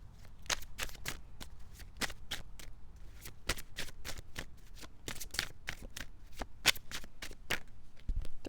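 Tarot cards being shuffled during a card reading, a steady run of crisp riffling and slapping bursts, close and fairly quiet, with no voices.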